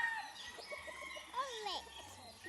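A five-month-old stag rooster at a Bohol gamefarm crows once, faint and somewhat distant, amid scattered clucks and quiet farmyard background.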